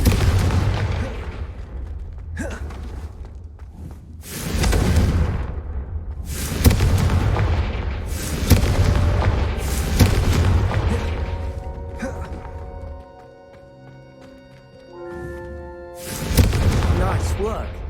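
In Hogwarts Legacy, Confringo spell blasts hit candelabras as a series of booming explosive bursts, roughly every couple of seconds, ringing out over a low game soundscape with a melodic chime near the end.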